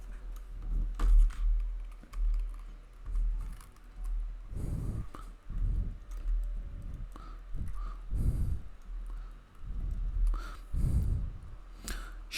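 Typing on a computer keyboard at a desk, with irregular bursts of soft key clicks and taps at close range. No one speaks during the typing.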